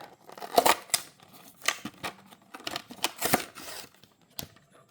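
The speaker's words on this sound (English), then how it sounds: "Okay, let's unbox it." Cardboard and plastic packaging of a Majorette Porsche 934 toy car being opened, with close, sharp tearing and crinkling rustles in irregular bursts and no talk.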